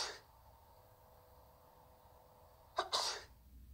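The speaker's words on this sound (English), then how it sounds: "First, sneezing." A single human sneeze in a laboratory droplet-detection experiment, close and fairly sharp, heard after a stretch of quiet room hum.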